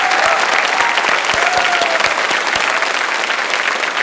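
Studio audience applause fills the Kaun Banega Crorepati set, a steady, dense clapping wash that stays loud and even throughout, with a few sharper individual claps standing out.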